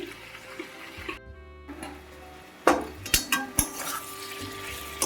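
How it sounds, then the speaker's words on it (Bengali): A pan lid clatters off a pot of elephant foot yam stalks with prawns, salt and turmeric simmering on medium heat. Several sharp metallic knocks and scrapes sound close by over a low kitchen hum, after a brief quiet stretch. "2 মিনিট পর চাপাটা তুলে নিচ্ছি।"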